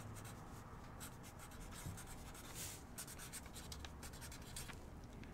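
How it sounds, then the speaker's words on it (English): A pen writes a partner's name on paper, with steady close scratching strokes that continue without a break under a faint background hiss. "what you're going to do is you're going to write down partner's name"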